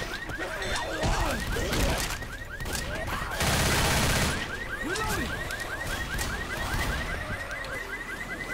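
Car alarm set off by a pipe bomb in the Left 4 Dead video game, a fast repeating electronic whoop that wails steadily under bursts of gunfire and chaotic combat noise.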